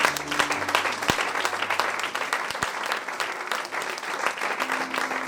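A church congregation applauding the Lord, sustained dense clapping from many hands, loud and steady, with faint voices mixed in.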